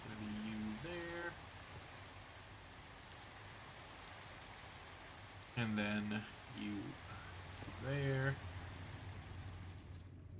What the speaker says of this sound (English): Ah, finally the rain stops.